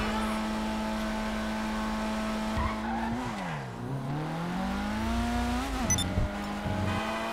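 Car driven in the GTA video game, a steady engine drone with long sustained tones that dip and rise again as the car swerves, with brief tyre-skid squeals partway through.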